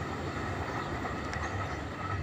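A Tokyo Metro 8000 series KRL commuter train, car 8004, runs past on an afternoon in Indonesia as a steady, close rumbling roar of wheels and rail noise with no talking.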